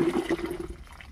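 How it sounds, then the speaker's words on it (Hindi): Water pours into a can while priming an engine that will not start, a near, continuous splashing and gurgling pour that runs for about a second before thinning out, with no speech. "अब हम इसमें पानी डालेंगे"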